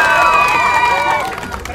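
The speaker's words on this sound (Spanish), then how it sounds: "¿El aplauso para mí?" Audience at a Mexican street comedy show in the Alameda cheering and applauding, a loud crowd roar with whoops and a high shout, close and dense, fading slightly at the end.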